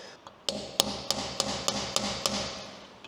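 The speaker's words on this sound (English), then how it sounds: "I'm going to take this chisel, I'm going to run that nut down tight as I can with the chisel" A hammer strikes a chisel to drive a wheel bearing nut tight on an old Ford F250. About eight sharp, ringing metallic blows land close and loud at a steady rhythm, with no talk.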